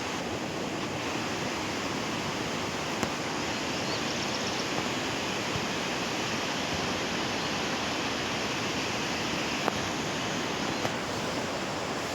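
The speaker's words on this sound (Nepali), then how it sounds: "यस्तो खोला छ अम्बो" A river rushes along the trail to Mailung waterfall, giving a steady, unbroken roar of flowing water for about twelve seconds with no voices.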